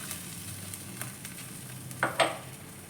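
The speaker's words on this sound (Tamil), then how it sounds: "இப்போது இது நல்லா கொதிக்கட்டும் ஃப்ரெண்ட்ஸ்." Water heating in a pan for rava upma bubbles and sizzles softly as it comes toward a boil, a steady low simmer with a few brief louder clinks near the end.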